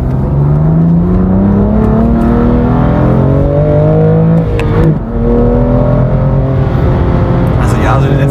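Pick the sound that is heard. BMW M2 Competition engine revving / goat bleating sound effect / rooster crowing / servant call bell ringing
BMW M2 Competition engine revving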